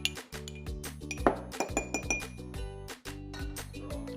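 A spoon stirs a mixture inside a glass jar, producing rapid, ringing clinks and scrapes against the glass, close and fairly loud with a steady rhythm.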